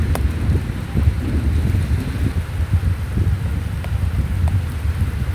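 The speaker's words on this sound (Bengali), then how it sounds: "কি সুন্দর লাগছে চারদিকটা বৃষ্টি হচ্ছে বেশ ভালো লাগছে" Steady rain falls on an open rooftop during a hot-season shower, a dense, even hiss with a low rumbling undertone and scattered louder drops, no voices present.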